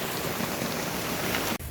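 Heavy rain from a typhoon pours steadily onto surfaces outdoors, a dense, even hiss of drops close by that cuts off sharply near the end.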